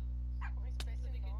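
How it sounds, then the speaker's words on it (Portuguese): Dogs in the Minecraft video game give a couple of short, faint yips over a constant low electrical hum. "Esses cachorros aí."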